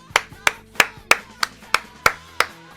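Applause from listeners: about eight sharp, evenly spaced claps roughly a third of a second apart, close and crisp, each with a short decay, no voices.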